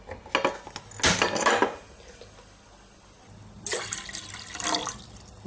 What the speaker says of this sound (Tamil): ஒன்று டம்ளர் தண்ணி ஊற்றிருக்கேன்.